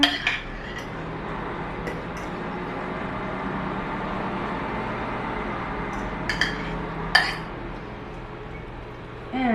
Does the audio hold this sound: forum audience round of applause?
no